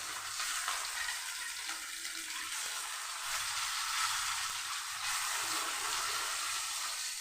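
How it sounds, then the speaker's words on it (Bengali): Hilsa fish frying lightly in a pan, a steady broadband sizzle with a continuous hiss that holds nearly level throughout, close and fairly loud, with no talking. "ইলিশ মাছটাকে তুমি হালকা ভাজবো।"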